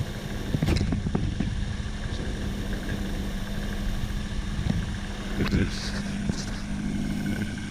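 The engine of a 1984 Ford LTD Crown Victoria being restored cranks and fires with a few sharp clatters, then settles into a steady low idle hum, close and moderate, with someone talking over it.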